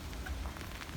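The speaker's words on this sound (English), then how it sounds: "But as you see, it's raining." Rain falls steadily outdoors at a junkyard, a dense, even hiss of drops on surfaces, with no one speaking.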